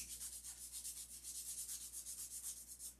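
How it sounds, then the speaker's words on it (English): Sticky-back sandpaper, 180 and 320 grit, wrapped on a popsicle stick scrubs back and forth in quick, steady strokes, about a dozen evenly spaced rasping passes, close and fairly quiet with no talk. "This is a popsicle stick with whatever sandpaper you want on it."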